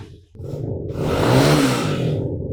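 A second-hand motorcycle engine, a 2021 model, revs up hard from idle, a loud close rising roar that holds for about two seconds, with no talking.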